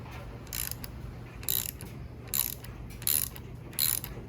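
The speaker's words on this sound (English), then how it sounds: "And that is going to just be a 1/4 inch Allen drive. See how we're loosening it up." A ratchet fitted with a 1/4 inch Allen drive loosens the top handlebar clamp on a Harley-Davidson Low Rider S FXLRS, giving five short bursts of close, crisp clicking separated by brief pauses.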